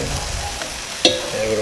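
Tortilla topped with carne asada sizzling steadily on a hot surface as it is flipped, a soft thump partway through, with a continuous close frying hiss throughout.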